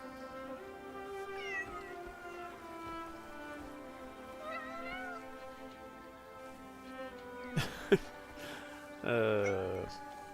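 A cat meows several times in a game scene; the calls are close and moderately loud, with a short burst of drawn-out caterwauling near the end over a steady background hum and music.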